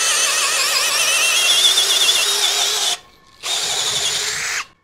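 A DongCheng DCJZ2040i13 cordless impact drill running at speed 2 with an auger bit drills through wood, giving a loud, steady whine that stops sharply, restarts briefly and cuts off again.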